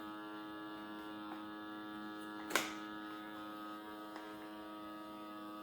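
A vacuum sealer draws air out of a bag holding frozen mini pies, producing a steady electric motor hum with harmonic buzz, a brief sharp crackle midway, and a small click later.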